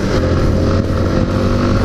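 A Yamaha XTZ Lander 250 motorcycle engine of 249 cc runs steadily and loudly up close, a dense continuous drone with slight rise and fall in revs and no voices.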